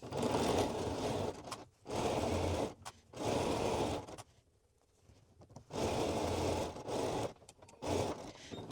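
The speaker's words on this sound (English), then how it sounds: "I'm sewing at 3/8 of an inch" A sewing machine stitches hoodie ribbing at a 3/8 inch seam in several steady whirring runs separated by short pauses and one longer silence, close up and without speech.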